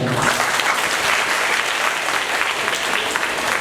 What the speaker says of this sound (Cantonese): 大家俾多啲掌聲自己嘅同學仔